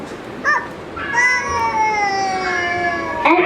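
A child in a class role play imitates a cat with a drawn-out, wavering meow, close and clear, preceded by a brief vocal sound.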